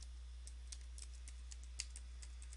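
A command is typed on a computer keyboard, a faint run of light, irregular key clicks over a steady electrical hum.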